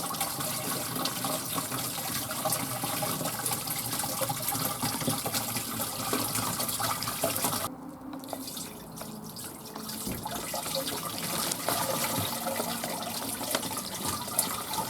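Water pouring into the plastic tank of a DEMON M80202 16-litre battery-powered electric backpack sprayer, a steady splashing fill that breaks briefly midway and then resumes, with no talking.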